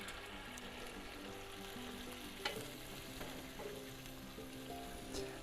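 A BBQ rib-eye steak sandwich sauce with red wine vinegar bubbling in a pan over indirect heat, a faint, steady sizzle and crackle with a few small pops and clinks.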